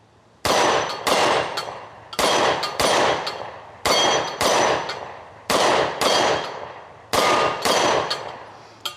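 Seven paired gunshots from an S&W M&P 10mm Carry Comp pistol firing Federal ammunition, sharp loud cracks with ringing decay at a steady cadence, and no talk.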